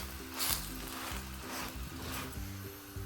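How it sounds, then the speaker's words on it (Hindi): Mooli paratha cooks on a hot pan, giving off a soft, steady sizzle that swells slightly now and then, fairly quiet and without speech. "ये देखें हमारा पराठा जो है ये पक रहा है"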